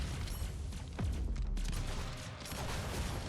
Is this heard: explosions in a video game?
yes